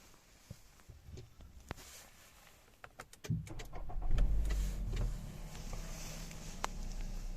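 A Nissan Rogue with the QR25DE engine, 46,000 km on it, cranks briefly with a few clicks before it, then starts and settles into a steady close idle.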